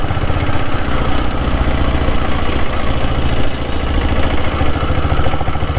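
A Royal Enfield Diesel Bullet motorcycle engine runs steadily and loudly throughout, with a continuous close-up thumping, knocking diesel beat and no talking.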